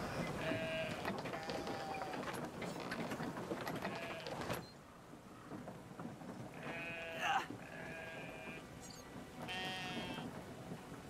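Sheep bleat repeatedly in the Brothers: A Tale of Two Sons game soundtrack, several wavering cries over a low rumbling background, with a brief quiet dip partway through.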